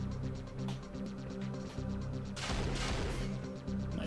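Gunfire in the video game Unreal Tournament on PlayStation 2, rapid repeated shots in a steady rhythm followed by a louder burst of blasts, fairly faint overall.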